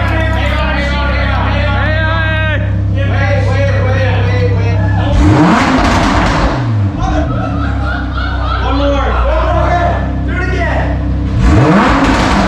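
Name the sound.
sports car engine being revved (Lamborghini Huracan or Audi R8)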